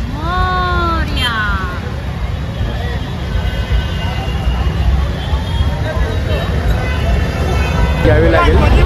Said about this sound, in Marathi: मागे खूप ट्रॅफिक झालेलं